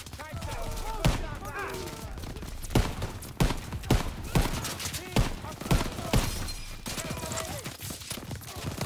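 Wartime gunfire in the D-Day campaign of Call of Duty WWII, repeated rifle and machine-gun bursts with shouting voices over a constant battle din, dense and loud throughout.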